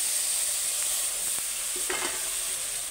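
A spice paste of ground onion, ginger and mixed spices blended with water, sizzling loudly and steadily in a pan for a prawn and banana stem curry, with a couple of soft stirring scrapes and no talking.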